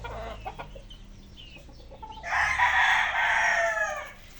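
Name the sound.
rooster crowing and clucking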